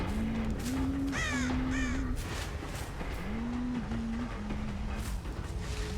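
In the Dead by Daylight video game, crows caw twice in quick rasping calls early on, while a low droning tone rises and falls underneath through a steady ambient wash.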